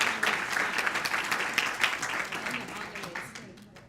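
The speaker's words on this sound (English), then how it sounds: "Let's have a big round of applause for our 2018 Secondary Teachers of the Year." Audience at a school district Teacher of the Year luncheon breaks into applause, a lively burst of clapping that gradually fades over a few seconds, heard at moderate distance.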